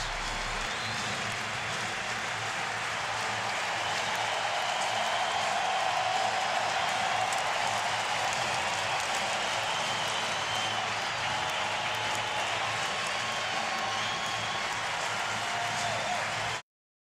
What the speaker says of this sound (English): this Phillies capacity crowd will stand and let Cole Hamels know what they think of him